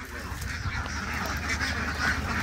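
Geese and ducks honking and quacking at a duck farm, a busy overlapping chorus of calls from many birds at close to mid distance, steady throughout, with some faint voices mixed in.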